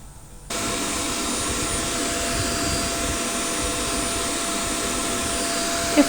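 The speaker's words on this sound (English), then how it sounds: "We are using vacuum cleaner to clean the filters." Vacuum cleaner cleaning LG ARTCOOL air conditioner filters: after a brief quiet start the motor switches on and holds a loud, steady whooshing roar close by, with a small bump at the end and no talk.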